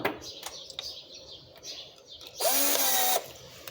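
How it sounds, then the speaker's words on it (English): A power drill fitted with a wire brush scrubs an old gasket off a mini bike engine, a harsh broadband grinding burst of under a second near the end, preceded by faint ticking and light bird chirps in the background. "I have a wire brush that I use on my drill."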